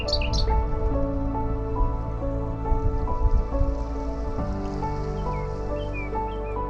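Rain with a little hail falls by the shore of Lake Issyk-Kul in the Tien Shan mountains of Kyrgyzstan, a steady hiss throughout, with a couple of bird chirps at the start.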